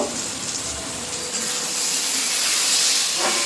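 Steam hisses steadily as the lid comes off a pan of taro stolons (kochur loti) boiling on the stove, a continuous broad rushing sound that swells slightly toward the end.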